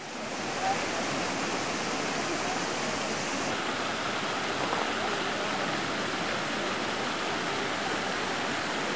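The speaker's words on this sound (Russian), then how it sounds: "Воду в фонтанах включают периодически." Palace fountains at Herrenchiemsee running, a steady broad wash of splashing water heard from a moderate distance, even and continuous throughout with no talking.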